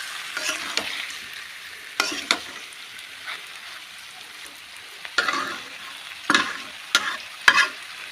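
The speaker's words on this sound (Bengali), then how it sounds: "এই যে এখানে পেঁয়াজ বেরেস্তা করছি" Onions fry crisp in oil for beresta with a steady background sizzle, broken by sharp, irregular stirring scrapes and clacks of a spatula against the pan.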